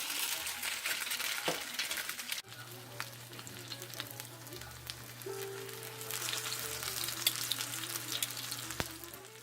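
Latkes fry in hot oil with a continuous close crackling sizzle that swells and fades slightly over several seconds, alongside a low steady hum.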